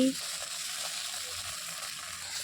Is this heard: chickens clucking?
no